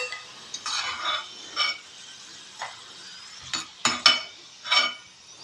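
Churros frying in hot oil, a faint steady bubbling sizzle broken by several sharp metallic clinks and scrapes of a utensil against the pan, close, with no talk.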